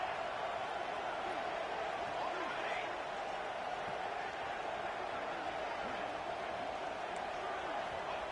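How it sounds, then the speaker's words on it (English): Steady roar of a large stadium crowd at a football game during a late two-point conversion attempt for the win, a dense continuous wash of voices at constant level throughout. "they'll have to conquer this crowd noise"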